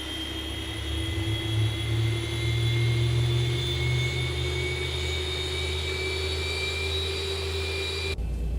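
Boeing 737 jet engine spooling up during start-up in X-Plane 12, a steady rising whine with a low rumble underneath, sustained and loud before cutting off abruptly at the end.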